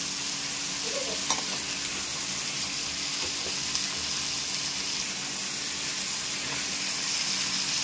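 Tomatoes cooked down with salt and turmeric sizzle in a pan as they are stirred, a continuous close frying hiss with occasional scraping knocks from the spoon.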